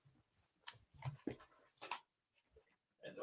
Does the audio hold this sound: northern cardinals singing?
no